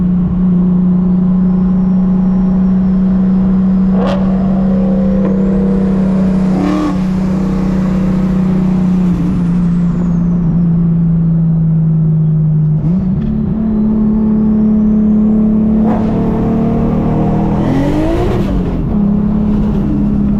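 A 600 WHP 1.5JZ-powered Lexus IS300 engine pulls hard and loud up close, holding a steady high drone with brief dips and rises as it shifts through the gears for about twenty seconds.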